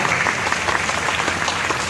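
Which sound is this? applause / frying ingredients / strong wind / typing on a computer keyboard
applause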